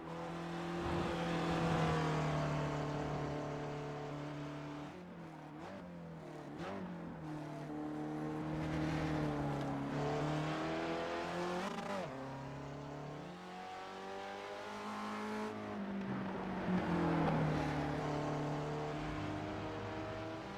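A race car laps Brands Hatch in the iRacing simulator, its engine revving up and dropping repeatedly through gear changes and braking over a long, fairly quiet stretch.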